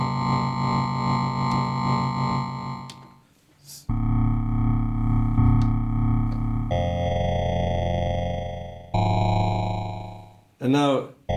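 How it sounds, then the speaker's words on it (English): A Moog Muse synthesizer plays sustained buzzing tones with overdrive distortion that pulses in and out like a tremolo, changing pitch across several held notes, loud and close. "you get the distortion kicking in, or the overdrive kicking in, as kind of a tremolo"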